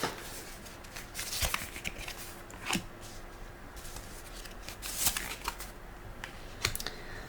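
Tarot cards are laid out on a table, giving quiet, scattered flicks and soft slaps that come in irregular bursts over faint background hiss.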